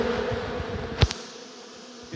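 A steady, close buzz of honeybees and drones fills the air throughout, with a brief knock or bump partway through.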